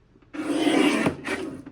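A yellow paper strip is trimmed to 6 1/4 inches for a scrapbook page. One smooth, scraping slice lasts under a second, followed by a short, softer second scrape, close by and with no talking.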